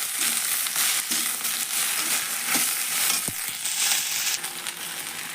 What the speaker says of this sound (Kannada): ನಾನು ಇವಾಗ ಬೆಂಡೆಕಾಯಿ ಹೆಚ್ಚಿಟ್ಟಿದ್ದು ಇದ್ರಾಗ ಹಾಕೋತೀನಿ ರೀ